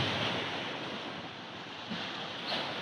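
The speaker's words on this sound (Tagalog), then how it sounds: "Lalakas ang alon, oh." Ocean waves surging and washing continuously, a broad rushing roar with gentle swells, mixed with wind noise against the microphone.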